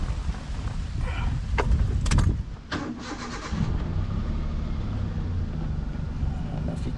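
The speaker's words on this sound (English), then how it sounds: "I'll turn the engine on." A Hyundai Eon car engine cranks and catches, then drops into a steady low idle, heard close with some background rustle and a faint voice.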